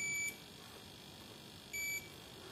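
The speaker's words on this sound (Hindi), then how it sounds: "तो ये फर्स्ट पॉइंट देखें, बीप कर रहा, ये भी बीप कर रहा" A multimeter set to buzzer continuity mode, probing a Realme C20 phone board, gives two short electronic beeps, one at the start and one near the end, over quiet background hiss.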